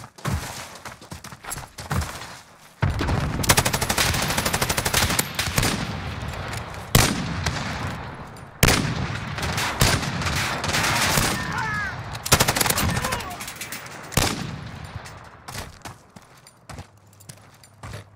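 Bruen MK9 firing in the Modern Warfare video game, loud rapid bursts of automatic gunfire in repeated strings with short pauses, dense and close, mixed with other game action.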